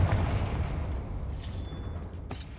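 A fiery Confringo spell blast in the Hogwarts Legacy video game: a deep rumbling boom fading out, followed by a short sharp crackle near the end.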